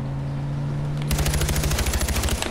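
Rapid automatic weapon fire in Far Cry 4 breaks out after a second of low droning ambience, a loud, evenly pulsing burst of shots running to the end.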